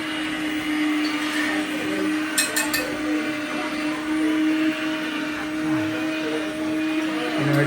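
An electric mixer grinder whirs steadily and loudly while grinding coconut in a home kitchen, with a constant motor drone and brief clatter partway through.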